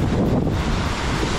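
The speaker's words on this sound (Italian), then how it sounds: "non sono le Maldive perché ci sono le onde" Waves washing onto an Ibiza beach, a steady broadband rush of surf mixed with heavy wind buffeting the microphone, brief and fairly loud with no voices.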